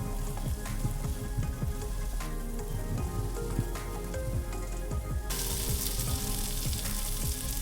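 Spices for a spicy Bengali-style tengra fish curry sizzle and fry steadily in a pan while being stirred, with a dense crackling hiss and scraping clinks throughout, growing brighter toward the end.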